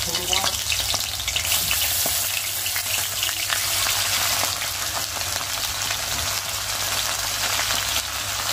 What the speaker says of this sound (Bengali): শুধু মাছের ভাজাটা করে দাও, মাছের ভাজা দিয়ে খাওয়া দাওয়া করবো।